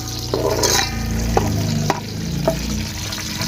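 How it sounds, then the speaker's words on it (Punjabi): Chicken fries in a pan for dum chicken biryani, a loud, even sizzle broken by a few sharp clinks of stirring, with faint music underneath. "ਅਸੀਂ ਚਿਕਨ ਫਰਾਈ ਕਰ ਲੈਂਦੇ ਆ"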